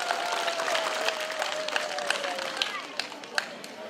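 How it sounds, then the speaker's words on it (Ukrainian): An audience at a Trinity holiday celebration gives a girl loud applause, a dense patter of many hands clapping with a few sharper close claps, mixed with crowd voices. "Аня, гучні оплески Анічці!"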